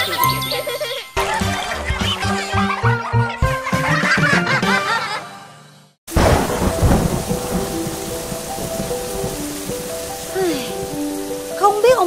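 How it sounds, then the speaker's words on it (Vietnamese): Cartoon thunderstorm with heavy rain: a loud, continuous downpour with rumbling thunder, following a short burst of music and laughter. "trời giận ai mà mưa tối ngày hả?"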